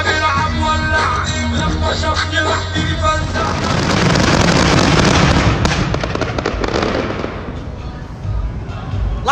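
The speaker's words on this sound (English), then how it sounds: "Lots of fireworks." Fireworks at a desert drag racing event, a dense, loud barrage of crackling bursts and booms that builds to a heavy roar mid-clip and then thins to scattered pops, with crowd noise underneath.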